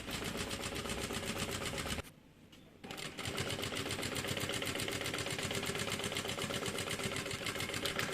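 A sewing machine runs a straight seam on a medium-sized double-opening bag: a steady, close mechanical whir that stops briefly for under a second, then resumes and runs evenly to the end.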